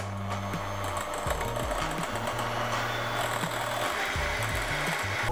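Electric mixer beating egg yolks into cheesecake batter, a loud steady motor whine with a wavering, grinding pitch as the beaters churn, continuous and close.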